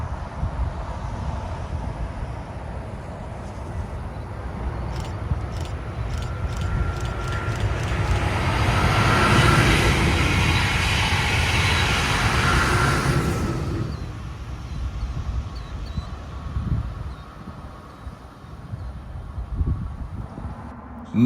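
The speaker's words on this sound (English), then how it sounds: "Few minutes later comes BLF 701, the BrightGreen train, as it takes off east towards Cocoa for its southbound trip to Miami." A Brightline passenger train, the green-liveried BLF 701, passes outdoors near Orlando, Florida: a steadily swelling rumble and roar with a bell-like rhythmic clatter, peaking loudly mid-way before fading into quieter ambient noise.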